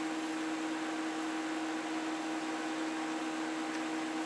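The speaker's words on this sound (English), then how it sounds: "So that's on microwave." A microwave oven running at full power gives a steady, quiet electrical hum with a constant low drone and no break.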